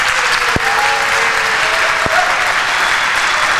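Debate audience applauding, a dense, steady wash of clapping from a crowd throughout, with a couple of sharp knocks near the microphone and no talking.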